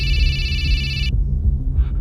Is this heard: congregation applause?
no